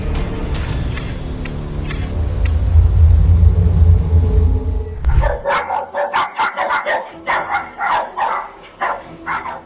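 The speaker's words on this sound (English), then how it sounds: "A man was woken up by the sound of dogs barking wildly outside his home." Loud low rumble gives way abruptly to a rapid run of sharp barks from several dogs, excited and continuous, fairly close by.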